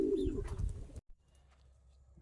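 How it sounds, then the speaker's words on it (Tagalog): A pigeon in a bird loft gives one close, soft, throaty coo lasting about a second, then only faint background hush remains. "Yung ating mga ibon ay nandito na."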